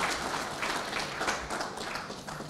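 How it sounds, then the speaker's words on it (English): Fairly quiet, even clapping from an audience thanks a speaker after a lecture on leading organizational change, a soft, continuous patter without voices. "Please join me in giving another very warm round of applause to our speaker."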